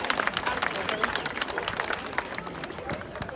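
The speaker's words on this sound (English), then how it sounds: "let's give them a big round of applause for that" An audience applauds the Antigua Island Girls rowing team for crossing the Atlantic, with dense, lively clapping and crowd noise throughout and voices mixed in underneath.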